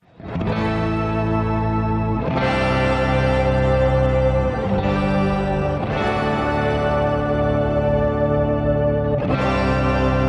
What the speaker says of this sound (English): when we add the Verbera in, we've got a really nice reverb in there as well, and it creates this texture.